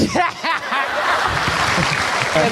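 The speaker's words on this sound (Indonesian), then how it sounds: "Tepuk tangan untuk UPJ." A live comedy audience breaks into applause mixed with chuckles and snickers, a loud, dense wash of clapping with laughter layered over it.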